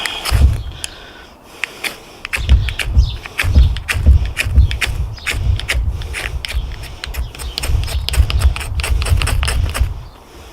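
Edge of a Cold Steel Survival Edge knife struck repeatedly against a fire starter outdoors: rapid, uneven scraping strikes with sharp clicks, close and loud, continuing in bursts through the whole stretch.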